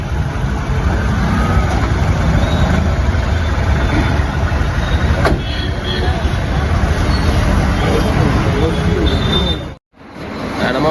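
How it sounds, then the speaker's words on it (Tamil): A flood relief vehicle's engine rumbling steadily up close as it gets ready to pull away, with people talking over the drone before a brief cut. "நம்ம வண்டி தான் கிளம்பிட்டு இருக்கு."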